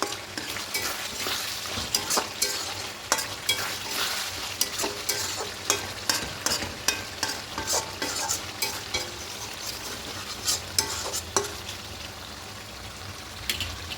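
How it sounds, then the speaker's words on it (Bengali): Yogurt chicken kosha being stirred in a pan with garam masala, a continuous sizzle with repeated scraping and clinking of a spoon against the vessel, close and fairly loud. "এখানে একটু গরম মশলা গুঁড়ো দিয়ে দেবো খুব ভালো করে মিশিয়ে নেবো"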